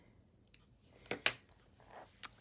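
Small scissors snip loose embroidery threads on a slow-stitch piece, two crisp close cuts in quick succession with a lighter snip before and another after, quiet and isolated against a soft background.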